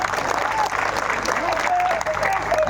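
Sustained applause from a large crowd at an outdoor political rally in Ghatnandur, a steady dense clapping wash with a voice faintly audible over it.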